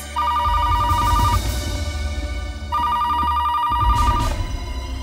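A telephone rings in two long bursts separated by a short pause, loud and close, over a steady low background rumble.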